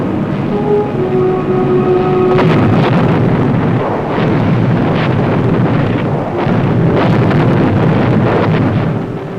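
Wartime bombing explosions from B-29 raids on industrial and transport centers in the Korean War, as heard on archival film audio: loud rumbling blasts under a constant roar of noise, with some tonal whine early on.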